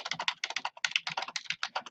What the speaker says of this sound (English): So as I start typing,